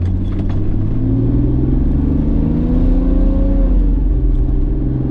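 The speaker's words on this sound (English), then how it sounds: "We're just going to lay on the throttle and see what happens" A Toyota LandCruiser with an intercooler setup pulls hard under full throttle, its engine a heavy, close rumble with a rising drone that dips as gears change.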